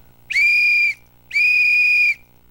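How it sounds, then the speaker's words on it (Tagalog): A whistle blown during a school earthquake drill gives two long, loud, shrill blasts in a row with a short gap between them and near silence around them. "Ang pito pwedeng hipan para makatawag ng atensyon, lalo na kung kailangan ng tulong"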